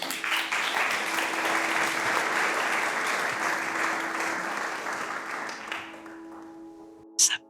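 An audience applauds steadily and fairly loudly, a dense wash of many hands clapping that thins and fades toward the end, followed by a brief sharp noise.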